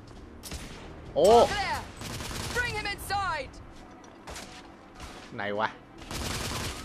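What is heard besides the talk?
gunfire in the video game The Order 1886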